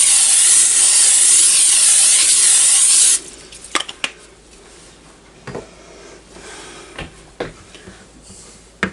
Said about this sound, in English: And then I'm going to spray it with Pam.